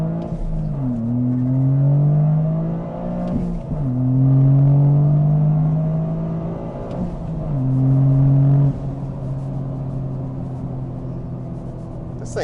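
A Toyota GR Corolla with an AWE Tuning exhaust revs up and down in several long swells, deep and loud, with sharp crackles from the exhaust between pulls.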